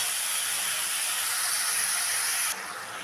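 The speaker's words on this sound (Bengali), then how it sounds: "তো ঝোলটা ফুটে গেছে, মাছটাও দিয়ে দিলাম।" Fish simmering in boiling curry broth gives a steady, loud bubbling hiss that runs unbroken, then drops noticeably quieter near the end. No voices are heard.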